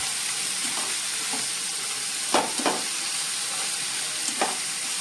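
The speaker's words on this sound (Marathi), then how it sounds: "हा कांदा ट्रान्सलुसंट होईपर्यंत आपल्याला परतायचा आहे" Onion sautéing in a pan for paneer bhurji hisses in a steady, even sizzle, broken by a few brief scraping stirs of a spoon.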